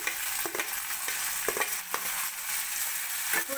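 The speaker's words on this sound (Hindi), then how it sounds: "अब हम इसमें डालेंगे अपने टमाटर" Tomatoes frying with softened onion in a pan for mix veg masala dosa, a steady close sizzle broken by several sharp scrapes of stirring, with no talk.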